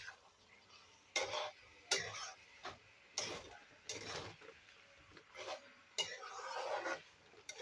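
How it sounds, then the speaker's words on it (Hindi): Rohu fish pieces are stirred into a Kerala-style masala curry in a pan: a spoon knocks and scrapes against the metal in a series of distinct clunks with quieter stirring between them, close and fairly soft. "अब इसमें हम डालेंगे मछली और इसको चलाएंगे"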